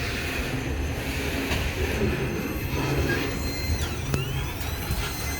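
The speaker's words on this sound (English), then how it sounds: "Pretty short train, just slow." A short CN freight train rolling slowly through a half-abandoned CN/NS joint crossing in Chicago Heights, Illinois, a close steady rumble of wheels and cars with faint metallic squeals and one sharp clank near the end.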